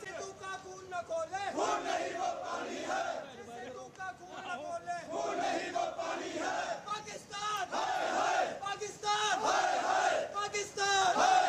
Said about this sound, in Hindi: पाकिस्तान हाय हाय के नारे लग रहे हैं।